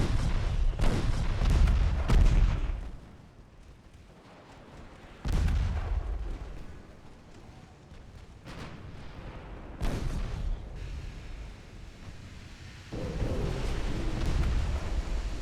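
Heavy booming explosions roll out as torpedoes strike ships in an 1893-era naval battle game, several deep, loud blasts separated by quieter rumbling stretches.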